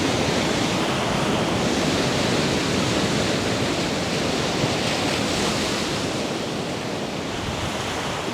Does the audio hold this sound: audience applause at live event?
no